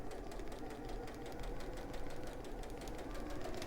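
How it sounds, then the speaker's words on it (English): A sewing machine stitches along drawn lines, its steady mechanical whir and rapid repeated needle knocking running continuously and fairly close, with no talk over it. "But it's quite easy because you're sewing along drawn lines."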